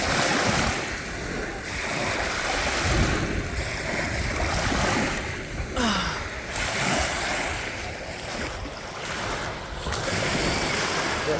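Waves roll in on Headlands beach in a continuous, loud wash of surf, surging and receding in uneven pulses with wind buffeting the microphone and no talk.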